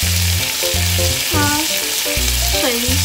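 Dumplings pan-frying in oil for a pan-fried dumpling dish give a loud, steady sizzle throughout, with tonal sounds layered over it and a single brief spoken word.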